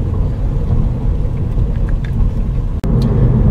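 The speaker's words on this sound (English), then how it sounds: "you can take this off-road, even though it's a bumpy ride and shaking my camera off the mounts" A MINI Cooper S Paceman drives over bumpy off-road ruts, giving a loud, steady low rumble of engine and road noise with a sharp jolt near the end.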